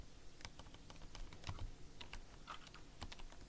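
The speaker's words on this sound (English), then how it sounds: "He's typing aggressively." Fast, hard typing on a computer keyboard, a quiet dense patter of clacking keystrokes with no voices.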